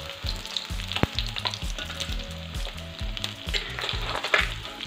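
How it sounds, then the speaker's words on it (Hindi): Pieces of rohu fish frying in hot oil until golden, a dense continuous sizzle and crackle, close and steady throughout, with no talking. "इसे हम और दूसरे तरफ से पका लेते हैं गोल्डन होने तक"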